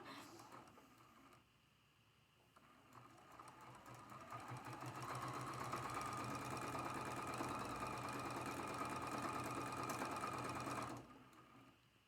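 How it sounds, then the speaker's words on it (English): A sewing machine stitches quilt blocks of striped fabric in a steady, fast mechanical whir, starting softly, running continuously for several seconds at close range, then stopping abruptly. "Flip it and sew it."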